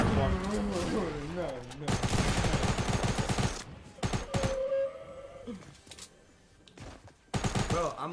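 Video game gunfire erupts in loud rapid volleys between stretches of shouting, with a shotgun among the weapons; short clustered bursts come close and heavy, separated by quieter gaps where a voice speaks.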